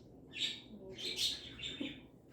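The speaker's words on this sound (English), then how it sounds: "My birds are competing with me as always, especially like when there's somebody new in the house" Pet birds in a home cage chirp and tweet in short bursts, fairly faint and spaced across the moment, with a quiet room behind them.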